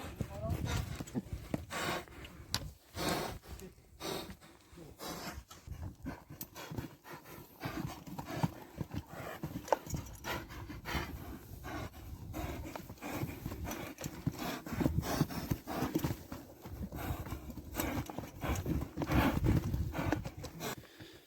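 Young Karabair horse led along at a walk in Özgön, its hooves clip-clopping in an uneven, fairly close beat beneath people talking and background noise, lasting the whole stretch.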